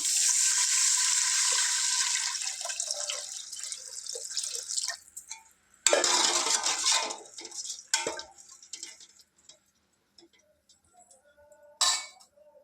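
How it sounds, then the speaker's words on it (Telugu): Water pours steadily into a metal pot for several seconds while cooking mutton biryani, then stops; a second short pour follows, and a faint clink ends the sequence. "దీంట్లోనే కొన్ని వాటర్ పోసుకుందాం"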